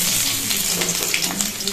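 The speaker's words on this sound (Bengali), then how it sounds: "তেল গরম হয়ে গেছে, একটা শুকনো লঙ্কা ফোড়ন দিয়েছি, আর পেঁয়াজগুলোকেও ছেড়ে দিয়েছি।" Onions and a dried red chili frying in hot oil, a steady close sizzle with soft crackle and brief stirring scrapes throughout.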